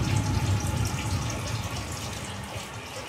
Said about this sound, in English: Water's still running.